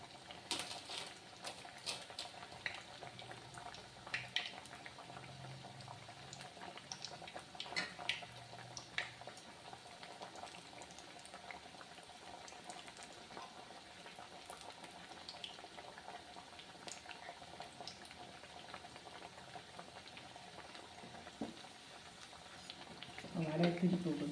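Masala vada sizzle as they deep-fry in hot oil, a faint, steady bubbling crackle with scattered pops that continues throughout and grows a little louder near the end.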